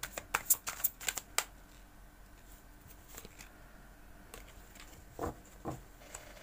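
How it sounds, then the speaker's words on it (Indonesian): Playing cards being laid out and spread across a table during a tarot-style reading, a quick run of crisp slaps and flicks at the start, then scattered softer card sounds, close and fairly quiet with no talk. "Kita lanjutkan menebar kartunya."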